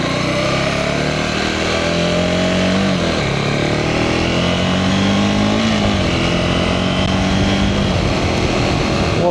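A motorcycle rides past a federal building, its engine loud and close the whole time, droning steadily with brief dips as the revs shift.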